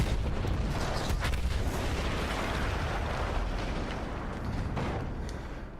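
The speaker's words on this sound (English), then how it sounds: "That explosion was one of the sweetest sights of the war for me." A sustained, heavy rumbling blast roars continuously, dense and loud, with crackling bursts scattered through it and no voices; an explosion in the video game Battlefield 1.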